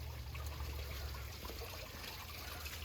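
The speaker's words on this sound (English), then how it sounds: "What do you hear? Running water?" Running water of a small, shallow preschool-sized creek, a steady continuous trickle and babble close by, with no talking.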